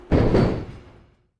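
In a horror video game, a woman's body falls onto a train seat as the train jolts to a stop. It lands as one heavy, booming thud that fades out within a second.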